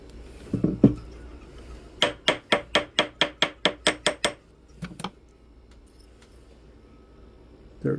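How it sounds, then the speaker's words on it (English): A gold ring being sized to 13, tapped with a metal tool: a quick run of about ten evenly spaced, bright metallic taps, preceded by a few scattered clinks and followed by a couple of softer knocks, close and alone. "We're not going to do any more tapping"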